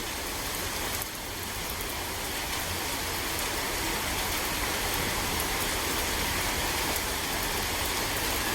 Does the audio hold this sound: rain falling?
yes